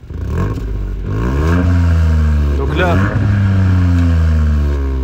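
A Ford Fiesta ST Mk8 revs loudly and close in normal drive mode, its engine note climbing and falling in steady sweeps, with someone speaking briefly over it.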